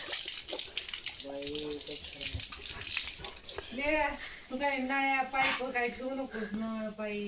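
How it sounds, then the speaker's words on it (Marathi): Water gushes steadily from a household tap broken by a dog, a rushing spray heard close by while voices talk over it throughout. "फुलं फुलं नळ तोडीत आहे बघ त्यो लिओ"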